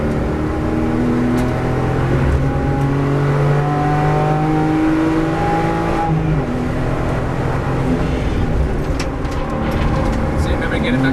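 Car engine revving and accelerating on a race track during a driving school session, a loud steady drone with rising and falling engine tones, heard from inside the car under an instructor's voice.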